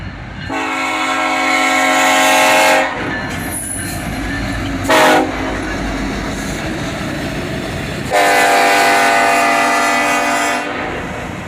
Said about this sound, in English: a close-up shot of the Federal Railroad Administration inspection train